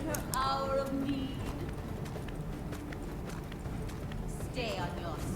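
Horse hooves clip-clopping in the Prince of Persia video game, moderately faint under game music and character voices talking, with a brief whinny-like tone early on.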